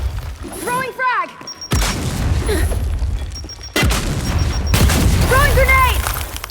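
Heavy booming frag grenade blasts in the Gears 5 video game, two sharp explosions about two seconds apart amid continuous combat noise, with shouted voices between them.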